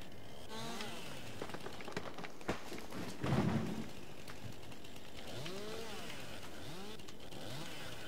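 A chainsaw felling trees in the video game Farming Simulator 22: the engine revs up and down repeatedly in a steady rising-and-falling drone, with a brief heavier crunch of cutting midway.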